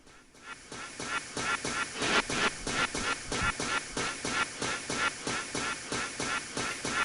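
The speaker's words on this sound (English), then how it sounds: "That's the sound of a person screaming as they go by over and over again." A theme park ride in a simulation video game sends a person screaming past again and again, a steady rhythmic train of loud, repeating bursts at roughly half-second intervals, with no talk over it.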